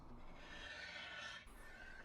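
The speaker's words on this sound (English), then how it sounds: "I wanted to remove the finish on the whole piece, so I used a combination of scraping and sanding." Scraping and sanding strip the old finish from a mid-century wooden furniture piece made by White Fine Furniture, giving a steady, close abrasive rasp that runs continuously with a brief dip near the end.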